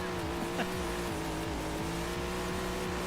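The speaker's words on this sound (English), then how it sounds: "We are in the Legends car. And we are inside the car here. Boy, she gets a lot louder when you're in the car, huh?" Inside a Legends race car in a racing video game, a loud steady engine drone holds throughout, with rhythmic pulsing from the engine and no break in the noise.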